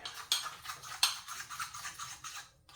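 Spoon scraping and clinking against a bowl while a thick curry paste for lamb and beef curry is stirred, with a couple of sharper taps and soft wet mixing throughout, close and fairly quiet.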